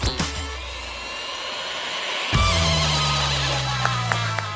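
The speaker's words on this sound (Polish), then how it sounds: "A teraz mieszam to wszyściutko w moim małym blenderze." A small motor whirs steadily, a small blender spinning water and other contents, with the pitch dropping and settling as the load changes partway through.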